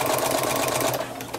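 Sewing machine running a straight stitch across a cloth diaper, a fast, even mechanical chatter of needle strokes heard up close, slowing slightly at the end.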